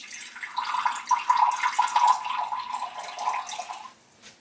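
Water poured into a measuring cup for soap making, a close, steady splashing trickle lasting several seconds before stopping abruptly.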